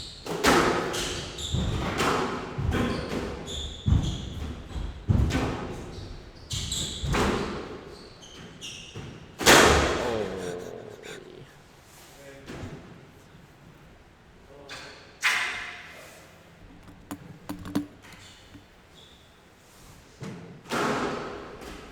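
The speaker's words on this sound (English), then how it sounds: "Elijah Thomas is putting plenty of height on the serves" Squash balls thud and smack repeatedly off racquets and walls during a Premier League squash match, sharp percussive hits coming in irregular rallies, with squeaks and crowd or court noise between shots.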